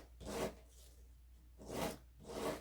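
Gourd seeds being sanded along their edges, giving three separate rasping, scratchy bursts with short pauses between them, close and fairly quiet.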